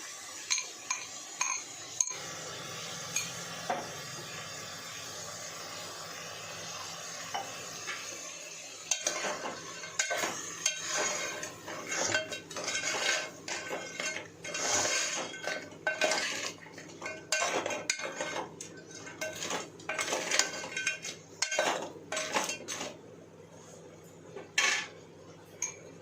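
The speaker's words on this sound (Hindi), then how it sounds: "अब हम इसके अंदर मसाला ऐड करेंगे जो हमने पेस्ट बनाया था" Utensils scrape and clink against a pan in an irregular stirring rhythm over a soft, continuous frying sizzle as a red chili and turmeric spice paste fries for crab curry, close up, with no talking.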